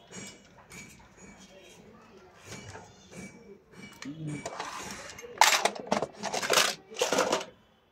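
A sewing machine stitches a salwar in short rapid bursts of rattling mechanical clatter, growing louder toward the end, with someone talking in between.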